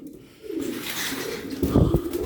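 Nearby cooing from a tumbler pigeon, a soft low murmur swelling into a stronger throaty coo toward the end, heard alone without speech.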